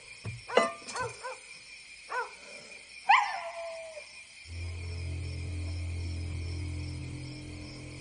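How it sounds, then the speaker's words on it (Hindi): A dog barks in a village, several sharp barks and a yelp clustered in the first few seconds, followed by a steady low hum with no further barking. "डांग, इतना क्यों भौंक रहे हो? लगता है पूरे गांव को जगा दोगे"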